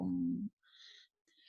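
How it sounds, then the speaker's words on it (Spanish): Birds chirp in the background in a couple of short, high, thin calls, preceded by a brief low tone. "se escuchan las aves de fondo"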